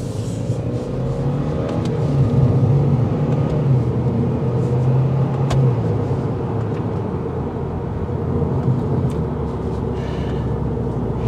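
A 2022 Subaru WRX with a CVT accelerates and drives, its engine drone and road noise steady and continuous throughout, heard from inside the car with no talking.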